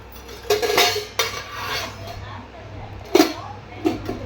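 Dishes and cutlery clink in a home kitchen as food is packed into a lunch box, a few sharp clatters spread out against a quiet room background.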